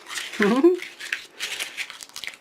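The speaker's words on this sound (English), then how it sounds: "I wanted to crumple it. I thought this will be so much easier to crumple than Real Red cardstock." Cardstock paper being crumpled by hand for a cardinal Christmas card gives short crinkling bursts after a brief voice, the rustles coming close and fairly loud in uneven clusters.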